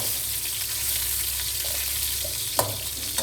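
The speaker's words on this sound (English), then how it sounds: "Add the pork belly slices and let them fry for about a minute." Pork belly slices fry in oil in a wok over medium heat, a steady close hiss of sizzling with one brief sharp clack near the end.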